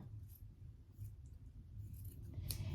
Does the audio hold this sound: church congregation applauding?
no